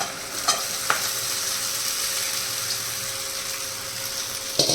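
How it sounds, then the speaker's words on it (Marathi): Sago pearls are tipped into a pan for sabudana khichdi and stirred, with a steady close sizzle and a few sharp spoon clinks against the pan near the start and end. "आता आपण साबुदाणा टाकून घेऊ"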